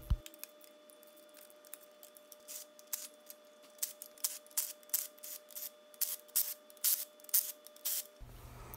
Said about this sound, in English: Then it's time to unbolt the blower.